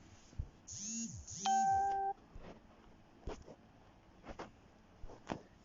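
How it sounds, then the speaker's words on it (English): A few electronic notification beeps and chimes sound briefly near the start, followed by scattered faint clicks and taps in a quiet room. "notifications"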